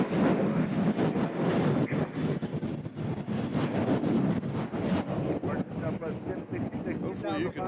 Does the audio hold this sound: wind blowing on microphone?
yes